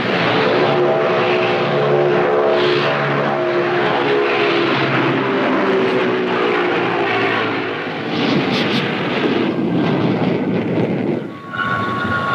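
A Vickers Viscount airliner with four propeller turbines flies past, a loud, steady, rich turboprop drone with tonal hum that swells and eases slightly over about twelve seconds.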